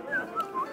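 A person whistles a short, lilting tune of a few rising and falling notes, moderately close and fairly soft.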